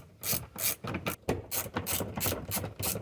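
A ratchet clicks in quick, rhythmic bursts of turns while backing a 10mm bolt out of a Chevy Silverado door, close and clear, with no talk.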